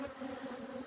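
Honey bees buzz around their hives during fall feeding, a steady low hum with no talking.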